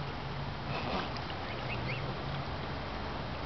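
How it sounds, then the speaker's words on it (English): Swans on a pond give a few faint honking calls against a steady outdoor background hiss, a short distance away and with no talking. "the four swans are coming over for a little visit"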